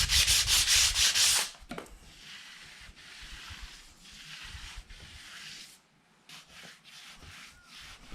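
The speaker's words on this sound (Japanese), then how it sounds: "この表面を滑らかに磨いて" Sandpaper rubs a wooden entryway surface smooth, loud and close for a second and a half, then continuing as softer, rhythmic scraping strokes that rise and fall.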